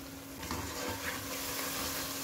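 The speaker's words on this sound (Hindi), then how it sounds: "अब इसको इतना भूनेंगे कि ये जो ऑयल है वो नज़र आने लग जाए" Masala with turmeric and red chilli frying in oil for aloo gosht: a steady, soft sizzle with light stirring scrapes, close and even throughout, no voices.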